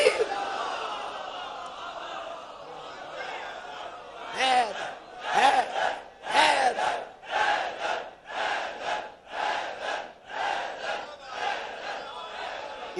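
Crowd at a Muharram majlis chanting religious slogans, rhythmic call-and-response bursts of many voices rising and falling in regular waves, loud and close after a preacher's voice.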